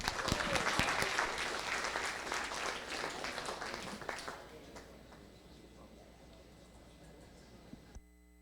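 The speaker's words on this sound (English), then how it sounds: "give a warm round of applause to the folks at Air Care" Audience applause fills a room at a presentation event, loud and dense at first, then thinning and fading over several seconds before cutting off.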